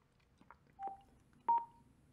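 A Cardo PACKTALK Slim motorcycle headset gives a few short electronic tones as it enters phone pairing mode, two brief beeps followed by a louder double tone, alone and close.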